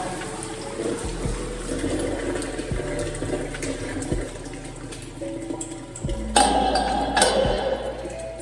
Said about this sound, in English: This hot water right here coming out of this hose is